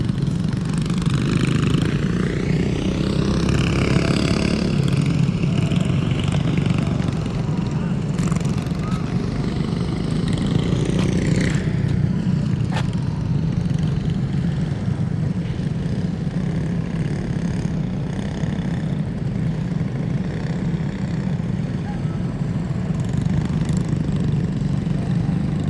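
Racing go-karts in a Pro League event at Orlando Kart Center keep up a steady, loud drone of small engines through the whole stretch, with a few sharper passes standing out early on.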